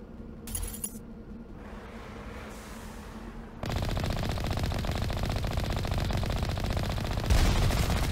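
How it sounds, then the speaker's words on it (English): Sustained automatic gunfire in the video game Mass Effect, a steady rapid rattle that starts abruptly midway and continues loud to the end, preceded by quieter game ambience and a brief sharp burst. "Who's shooting at me?"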